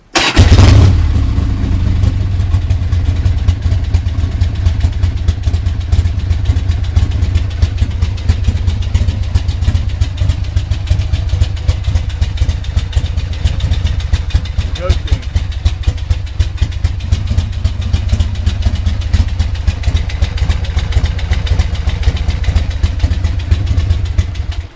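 Harley-Davidson motorcycle kept running through winter storage, a brief crank and catch at the start followed by a loud, steady, close idle with a rhythmic lumpy beat for the rest.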